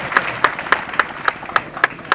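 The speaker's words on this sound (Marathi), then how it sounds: "परत एकदा जोरदार टाळ्यांचा कडकडाट करावा" Rhythmic unison clapping at a ceremony in Pune marking a coronation anniversary, about eight evenly spaced sharp claps over a soft crowd bed, fairly loud and close.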